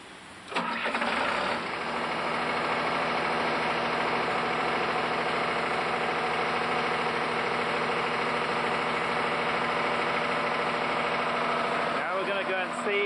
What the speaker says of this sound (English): now we're ready to start the engine and pump the antifreeze back into the holding tank.